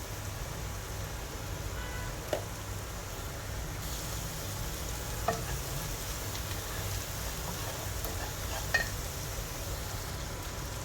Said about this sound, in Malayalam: ഇപ്പോൾ നന്നായി നമുക്ക് സോട്ട് ചെയ്യാം. ഈ പച്ചമണം പോകുന്നത് വരെ നമുക്ക് സോട്ട് ചെയ്യാം.